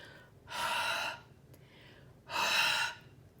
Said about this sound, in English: we're going to want to huff on it and use the moisture in our breath